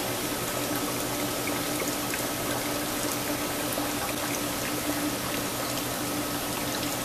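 Water drains steadily from a hydroponic propagation tray, a continuous close splashing trickle with no pauses and no speech.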